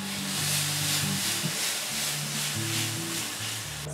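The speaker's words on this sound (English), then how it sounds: "Now let it get sauteed till the tomatoes become a little softer." Tomatoes and garlic sautéing in a pan, a steady close hiss and sizzle running evenly throughout with no talking.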